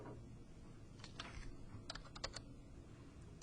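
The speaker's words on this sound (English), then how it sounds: "So I'm going to type 5145 divided by 5" Numbers typed on a computer keyboard, a quick uneven run of soft close key clicks in a quiet room, no voices.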